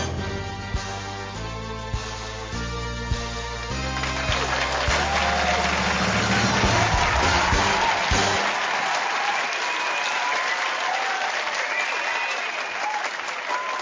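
A studio audience at the Thai TV business show SME ตีแตก bursts into loud, sustained applause and cheering. It rises out of a fading musical sting about halfway through and continues as a dense clapping wash to the end.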